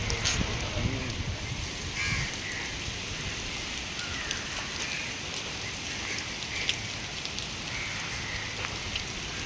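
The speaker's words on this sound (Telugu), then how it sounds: "ఈ వర్షం నాన్ స్టాప్గా పడతానే ఉంది." Nonstop rain drums steadily on surfaces along a Mumbai street, a dense continuous patter with crows cawing faintly now and then in the background.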